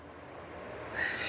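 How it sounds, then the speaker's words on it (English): Bird calling in the background, owl-like hoots or calls rising near the end over a quiet, steady ambient hiss, with no talk. "you just hear this bird in the background"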